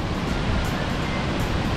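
Victoria Falls plunging into its gorge under heavy spray: a loud, steady, roaring wash of broadband noise, close and continuous, with faint wind buffeting and no talk.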